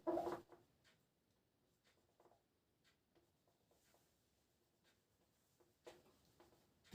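A pen writes out a probability problem by hand, with faint, sparse scratching strokes close by in a quiet room and a couple of louder taps or scrapes at the start and near the end.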